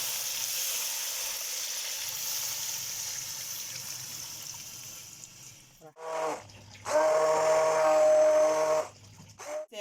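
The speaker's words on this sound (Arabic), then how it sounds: "هسه راح اضيف لهم المي" Seasoned chicken for kabsa sizzles loudly in a hot pot, then water is poured in, bringing a sudden hissing burst with bubbling and gaps of near silence between, up close with no talking.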